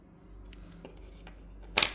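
Scissors snip through crochet yarn with a single sharp, close cut near the end, preceded by faint handling clicks and rustles in a quiet room.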